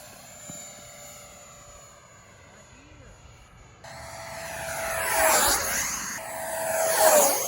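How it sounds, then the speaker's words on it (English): Freewing F9F Panther, a 4S 64mm electric ducted-fan RC jet, whines past twice in flight, its pitch sweeping down as it passes close and loud, after a quieter stretch of distant engine tone. "this is the Freewing F9F Panther 4S 64mm"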